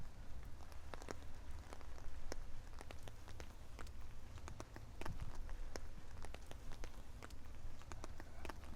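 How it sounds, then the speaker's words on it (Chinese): Rain falls steadily on a city street, a dense even patter with scattered sharper drops striking hard surfaces nearby, with no voices. "加上现在是下雨"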